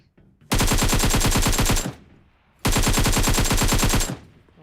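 Two long bursts of rapid automatic fire from an M249 machine gun in the PUBG Mobile video game. Each burst lasts over a second, is loud and close, and is separated by a short pause.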